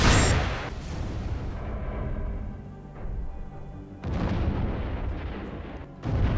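Hellbuster weapon firing in the space game X Rebirth: a loud burst, then heavy booming blasts repeating at intervals of about a second, with rumbling tails between them.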